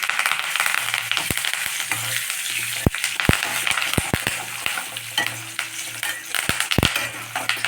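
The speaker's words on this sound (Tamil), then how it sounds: "இப்போ பச்சை மிளகாய் 2, வரமிளகாய் 2 போட்டுக்கலாம். கொஞ்சம் கருவேப்பிலை போட்டுக்கலாம்." Green chillies, dried red chillies and curry leaves fry with peanuts in a pan for tamarind poha: a steady close sizzle broken by sharp clinks and scrapes of stirring, with no talk.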